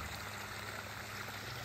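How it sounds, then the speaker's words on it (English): A garden waterfall in front of a cottage on a spring evening, a faint, steady broadband rush of falling water with no variation and no voices. "I wanted to take a moment and show you our waterfall."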